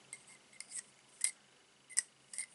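Crafting scissors snipping ribbon during card-making, a few sharp, quiet clicks spaced irregularly, close and alone without talk.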